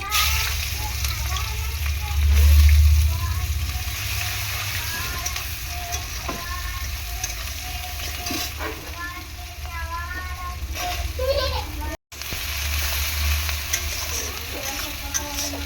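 Chopped onions frying in oil with cardamom, cinnamon and cloves, a constant busy sizzle with occasional stirring scrapes and a brief low rumble near the start.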